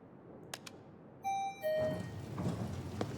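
Two-tone elevator chime in a video game set in Tokyo streets, a higher ding followed by a lower dong, clear and fairly loud over a low ambient game background.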